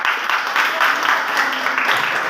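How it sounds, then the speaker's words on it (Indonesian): A classroom audience claps after a student group's presentation, making loud, dense, continuous applause from many hands close by that lasts throughout. "Kita kasih aplaus dulu untuk"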